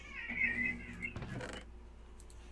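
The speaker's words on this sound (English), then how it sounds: "That was the cat trying to kill the other cat." Cats in the video game Minecraft meow: one drawn-out, wavering meow up close, then a short scuffling rasp, fairly faint against a quiet background.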